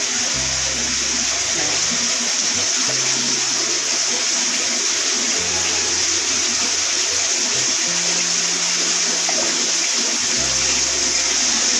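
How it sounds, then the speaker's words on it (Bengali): Water pours steadily and loudly into a cooking pot in a home kitchen, a constant rushing splash. "একটু জলটা দিতে হবে।"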